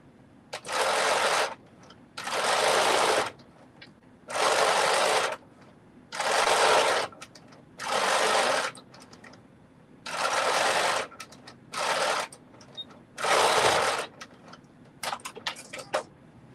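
A serger sewing knit fabric into socks runs in about eight separate loud, steady bursts of one to one and a half seconds each, with short quiet pauses between them and a few light clicks near the end.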